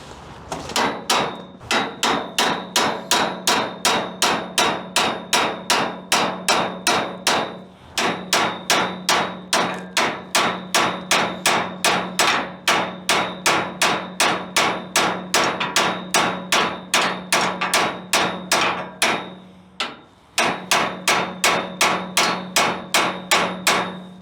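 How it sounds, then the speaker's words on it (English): Knurled bolts being hammered into a trailer suspension, a steady run of sharp, loud metallic blows at a quick even rhythm, pausing twice briefly before resuming. "I got to go in there and hammer it in."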